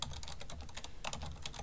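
Rapid keystrokes on a computer keyboard, a dense run of light clicks at close range with no voices.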